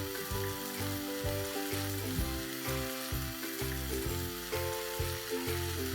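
Three finely chopped tomatoes sizzle in a spiced masala for Maa ki dal, a steady, close frying hiss that runs throughout with background music beneath.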